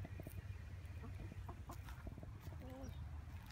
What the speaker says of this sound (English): I love my chickens and my cats.